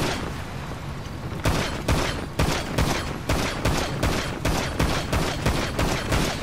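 Rapid bursts of automatic gunfire in GTA Online, a steady stream of loud shots rattling on for several seconds.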